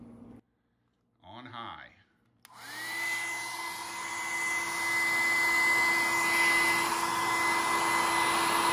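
Heat blower warming industrial Velcro on a guitar pedalboard; after a brief spoken phrase, the blower switches on with a sudden whoosh and settles into a steady, loud whining airflow that builds slightly and continues to the end.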